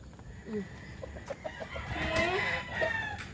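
Kelso chickens cluck and a rooster gives a strained crow nearby, with soft farmyard noise behind.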